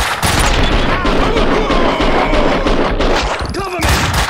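Loud, continuous rapid gunfire fills a Max Payne 2 shootout, dense overlapping shots and booms with no break, while voices shout underneath.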